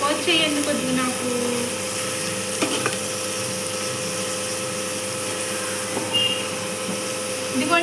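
Three onions frying in a pan for a brinjal and dry fish curry, giving a steady, close sizzle and hiss that runs throughout, with a few brief stirring clatters and a voice speaking over it.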